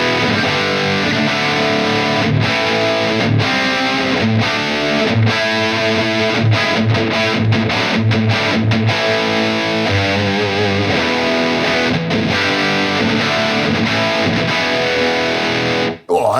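An electric guitar played through a Soldano SLO overdrive pedal on a bridge Damasio hot rail pickup rings out loud and heavily distorted in sustained high-gain chords and riffs, with brief gaps and an abrupt cut at the end.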